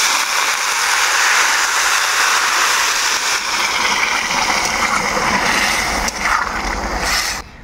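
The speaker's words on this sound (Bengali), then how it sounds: "এই সময় আমরা দিব হচ্ছে জল" Water poured steadily into a pot of rice being fried for crab biryani, a continuous broad rushing splash that holds evenly for several seconds before easing off near the end.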